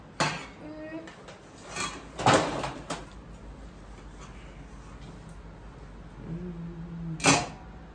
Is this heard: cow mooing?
no